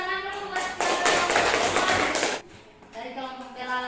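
Children in a classroom clap their hands together in a short burst of dense clapping lasting about a second and a half, with a teacher's voice speaking before and after it.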